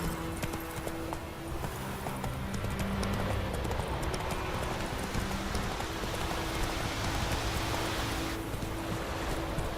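Roach the horse clip-clops steadily in The Witcher 3, hooves drumming in a quick continuous rhythm over a constant bed of ambient wash throughout.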